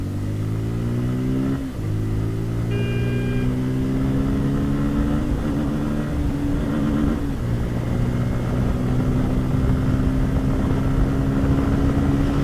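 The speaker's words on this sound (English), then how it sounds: "We'll push this motorcycle a bit." A Bajaj Pulsar N250 motorcycle engine drones loudly and steadily, its pitch climbing as it revs up through the gears, close and continuous.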